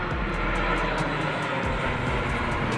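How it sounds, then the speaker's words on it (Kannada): An airplane passes overhead near a quarry temple at Sadahalli, its engine a steady, loud, broad roar that fills the whole stretch without any talk. "ಇಲ್ಲಿಂದ ನೋಡ್ಬೋದು ನಮಗೆ ಫ್ಲೈಟ್ ಎಲ್ಲ ಹೋಗೋದು ಕಾಣಿಸುತ್ತೆ"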